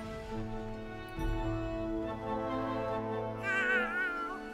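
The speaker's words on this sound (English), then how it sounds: "Ooh, and get this cat." A cat meows in the South Park: The Fractured But Whole video game. Long drawn-out tonal meows sound up close and fairly loud, with a wavering cry near the end and no talking.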